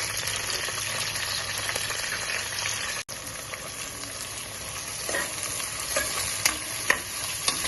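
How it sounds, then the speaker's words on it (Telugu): Onions sizzle steadily in hot oil for mutton paya, with occasional scraping stirs and small pops, near and continuous with no talk. "ఇది ఒక 5-10 మినిట్స్ ఫ్రై అవ్వాలి, కొంచెం బ్రౌనిష్ కలర్ వచ్చే వరకు."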